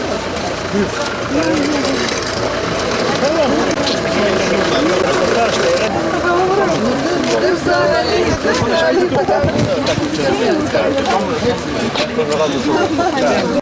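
Busy outdoor fruit and vegetable market noise in Ukraine: idling and passing car engines under a constant babble of many people talking nearby.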